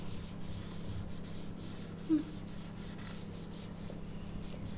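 A pen writes out a maths calculation on paper with soft, continuous scratching strokes over a low room hum, with a short isolated tone in the middle and no talking.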